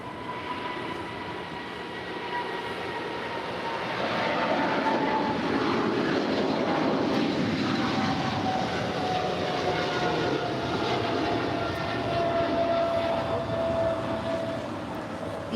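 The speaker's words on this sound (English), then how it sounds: "That is flight 751 taking off for a flight to Tokyo Narita. It is operated by Atlas Air." Atlas Air's Boeing 777 freighter, flight 751 to Tokyo Narita, takes off at LAX, a sustained jet roar with a faint whining tone that grows louder midway and stays steady, with no voices.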